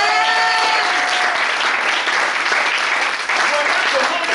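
A church congregation applauding during a sermon, dense continuous clapping filling the room at close range, with scattered cries and voices blended into the ovation.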